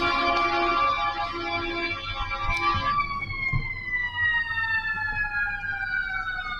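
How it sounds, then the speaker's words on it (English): Emergency vehicle sirens wailing past at a tennis championship, loud and continuous with sweeping, falling tones as they pass, over faint crowd ambience. "Trying to let those sirens go by."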